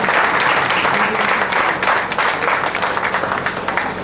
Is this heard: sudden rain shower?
no